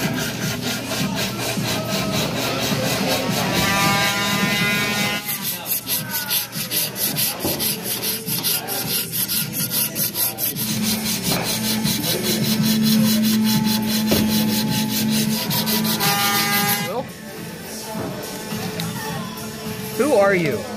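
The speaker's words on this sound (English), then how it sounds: "And eventually the 400 will sand through the 180." Sandpaper rubbing steadily along a wooden shaft, a continuous scratchy friction with repeated strokes throughout, fairly close and loud, with people talking over it at times.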